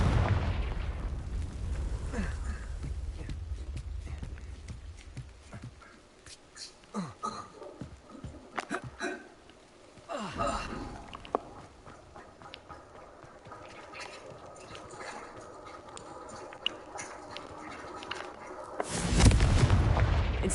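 Confringo blasting-spell explosions in a Harry Potter video game striking rocks: a heavy booming burst at the start, scattered crackling debris and thuds in the middle, and another loud blast near the end.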